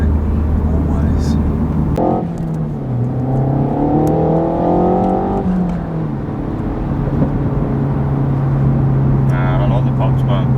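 A Renault Megane RS fitted with a boost leak fix and a decatted exhaust system revs and accelerates from inside the cabin, the engine drone rising and falling steadily, with faint crackles near the end and people talking over it.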